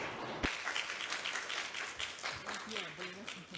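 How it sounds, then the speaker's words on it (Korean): Applause from an audience welcomes a minister at the closing ceremony of the 2022 Korea-ASEAN Youth Summit, a soft, distant clatter of clapping with a sharp knock early on and voices murmuring over it. "장관님을 큰 박수로 맞이해 주시기 바랍니다"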